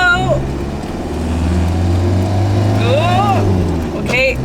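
A campervan's engine hums low and steady as the van pulls onto a main road. Someone talks in the cabin, and a few sliding squeaks come and go above the drone.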